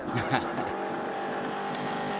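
A vintage racing car driving on a track, a steady mid-distance engine roar with a brief louder burst at the start, and a voice speaking over it.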